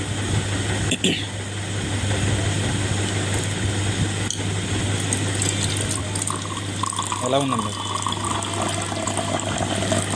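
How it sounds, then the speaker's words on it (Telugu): Water pours steadily into a glass with a continuous splashing rush, beneath a low hum, while a person speaks briefly nearby in a shop. "వాటర్ పోస్తే"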